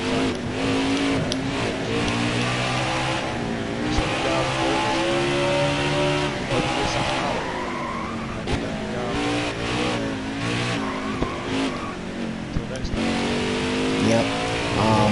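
A race car engine in the NASCAR Heat video game on the Charlotte Roval holds a loud, sustained drone with rising and falling pitch through gear changes and corners, while someone talks over it throughout.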